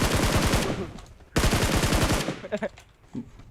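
Rapid automatic gunfire from a PUBG Mobile match, two loud sustained bursts with a short gap between them, then quieter scattered shots and a few brief game sounds.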